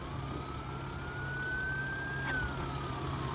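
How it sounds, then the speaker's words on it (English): A faint ambulance siren at an ambulance station in Poole rises in a single slow, steady wail and then starts to fall, heard at a distance over a low, constant engine hum. "You might be better off over there if you want to do the siren."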